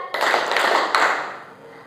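Two sharp bursts of rhythmic group clapping by a school class in quick succession, loud and close, ringing briefly before fading out.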